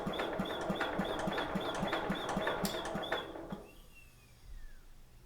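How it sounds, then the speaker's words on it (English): The starter of an old Economy tractor, abandoned for 20 years, cranks with a rapid, regular squeaky wheeze for about three seconds and then cuts off, leaving near silence with faint background noise. "So there's a wheezing noise when you hit the starter."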